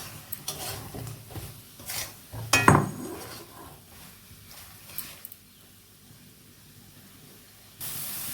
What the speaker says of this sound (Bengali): এবার ভেজে রাখা চিংড়ি আর আলুগুলো আমি দিয়ে নেব দিয়ে ভালো করে কষাবো